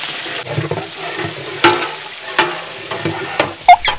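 Onions tipped into hot oil in a huge pot for a 20 kg batch of mutton biryani: a loud, close hiss and crackle broken by sharp scrapes and knocks of a large ladle.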